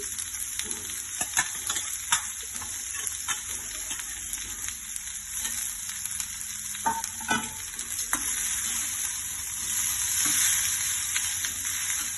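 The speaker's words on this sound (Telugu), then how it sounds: "చింతకాయ ముడితొక్కు వేసి కలబెట్టుకోవాలి" Rice mixed with raw tamarind pickle is stirred in a hot pan, with a soft continuous sizzle and repeated spatula scrapes and taps, close and alone without talk.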